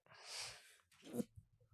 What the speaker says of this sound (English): That was a sneeze.